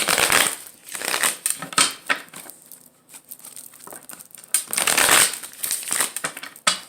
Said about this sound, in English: But I am gonna shuffle the cards now.